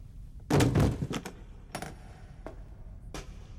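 Metal cases set down on the ground in a sci-fi anime scene, giving a loud, close thump and clatter followed by a few lighter knocks and taps.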